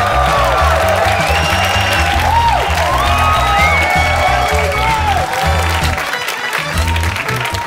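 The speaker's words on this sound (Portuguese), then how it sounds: "Recebam com uma salva de palmas. Façam muito barulho para Hugo Veríssimo!" Audience at a Rio comedy club stand-up show applauds and cheers, with whoops rising over steady clapping as a comedian is welcomed onstage; musical tones ring underneath and the crowd noise stays loud throughout.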